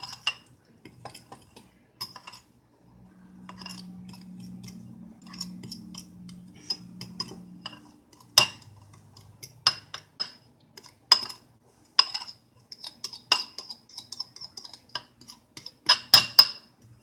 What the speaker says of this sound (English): So you just mix up all your dry ingredients together.